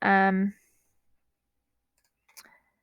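A short burst of voice fades into near silence, then a quick, faint cluster of mouse clicks sounds close by near the end.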